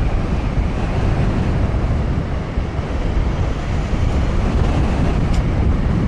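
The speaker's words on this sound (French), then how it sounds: "J'arrive même plus à parler, il y a trop de vent." Strong wind roars continuously against the microphone while riding a Dualtron Victor Limited electric scooter, a loud, steady buffeting rumble with no speech.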